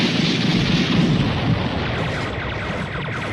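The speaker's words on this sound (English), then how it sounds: "they started shooting and bombing" Animated battle scene with continuous heavy gunfire and bombing, a dense, loud barrage of booms and bursts rumbling steadily throughout without let-up.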